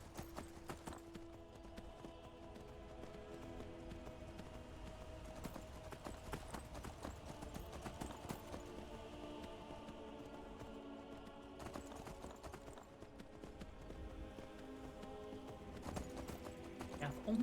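Horse hooves clip-clop steadily at a gallop in Skyrim Special Edition, a continuous rhythmic pounding over game music and ambience, with a brief neigh near the end.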